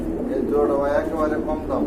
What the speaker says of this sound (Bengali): ব্ল্যাক কবুতর ব্ল্যাক বোম্বাই দেখতে পাচ্ছেন